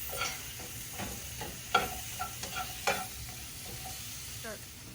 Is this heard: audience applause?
no